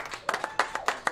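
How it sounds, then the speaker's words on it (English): Scattered clapping from a small audience at a talk-show taping, a brief ragged burst of separate hand claps heard fairly faintly. "Round of applause for Augie."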